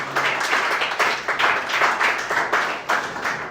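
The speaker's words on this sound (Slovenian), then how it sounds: "En aplavz, prosim." A live audience claps in applause for a guest speaker, dense pulsing clapping throughout, fairly loud and uninterrupted.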